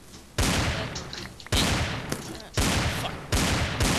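Video game gunfire from a Minecraft gun mod, four loud broadband shots spaced about a second apart, each with a long decaying tail, while game ambience continues between them.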